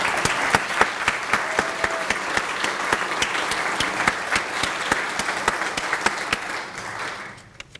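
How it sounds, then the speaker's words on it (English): A gathered group claps steadily for honored volunteers at a community appreciation event, a dense, sustained round of applause close by that fades out near the end. "if you'd stand and receive applause from the group"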